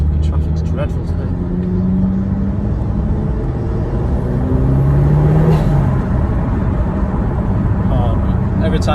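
A 315 bhp Vauxhall Astra VXR with a forged engine drives in traffic, its loud, steady engine drone heard from inside the cabin, with pitch rising and falling as the gears are shifted.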